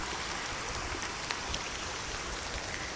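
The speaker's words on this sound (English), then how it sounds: "Just waiting in the rain, getting soaked." Steady rain pours down outdoors, a dense, even wash of falling water hitting puddles and surfaces, with occasional louder drops standing out against the constant hiss.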